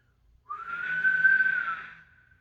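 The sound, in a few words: microphonic guitar pickup feedback whistle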